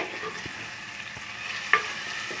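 Chicken pieces frying in a pan while being stirred, a steady close sizzle with a few scraping clinks of the spoon against the pan.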